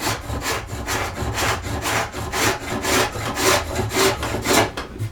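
A scratch stock blade scraping a bead profile into wooden molding in steady, rhythmic back-and-forth strokes, each one a close, raspy rub, with no talking.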